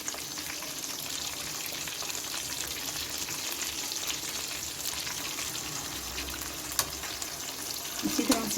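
Lemon chatkhara fried chicken crackles and sizzles steadily in hot oil as the pieces are turned over, a continuous close frying hiss with a few light clatters near the end.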